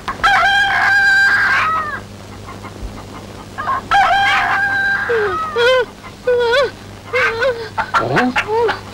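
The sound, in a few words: rooster crowing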